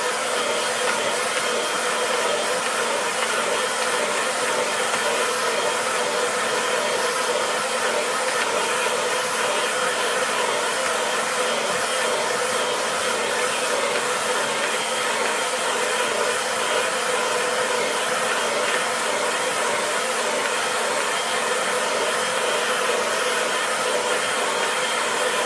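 A hair dryer blows steadily over a wet watercolour landscape painting, a constant close, loud rushing whoosh with an even motor hum that never varies for the whole stretch, with no talking.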